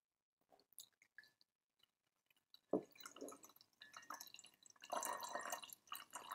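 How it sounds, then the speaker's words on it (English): The last few drops of tea are shaken from a teapot: sparse, soft drips and a small glassy tick, then a wetter, busier spill of liquid that grows louder toward the end. "Just shake out the last few drops."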